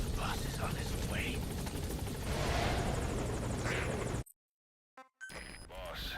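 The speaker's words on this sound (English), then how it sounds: "There we go. Support helicopter has arrived." Support helicopter in Metal Gear Solid V: The Phantom Pain arriving, a steady loud rotor drone with game chimes and voices over it, cut by a brief silent gap before resuming.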